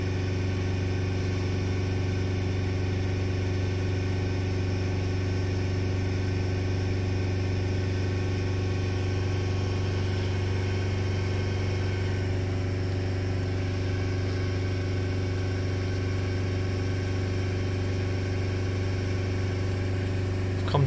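Vauxhall Vivaro van diesel engine held steady at about 3000 RPM during fault diagnosis, a constant loud droning hum with unchanging tone throughout, no talk.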